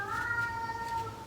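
A house cat cries with a single drawn-out, plaintive meow, heard clearly but at moderate distance in a quiet room.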